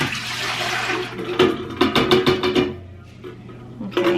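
Liquid pours and splashes into a metal pot, then a string of clanks and knocks, with a brief trickle of water at the end.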